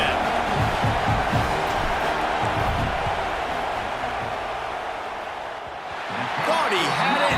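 Stadium crowd at a football game roaring steadily as the field goal unit lines up for a fourth-down kick, a loud, sustained wall of noise that dips briefly and swells again, with a commentator talking over it.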